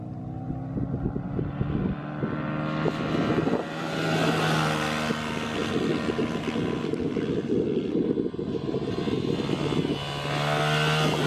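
Several motorcycles rev up together at the start of a countdown, a dense, loud, continuous engine roar with rising and falling pitch that lasts throughout, near and unbroken.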